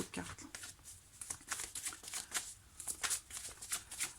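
Tarot cards being shuffled by hand in a riffling, papery patter of quick repeated flicks, steady and close throughout with no talking.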